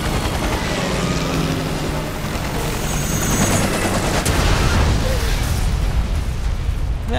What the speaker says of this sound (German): Ich schieße da immer so piu piu piu